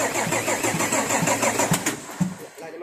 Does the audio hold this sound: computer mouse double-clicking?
no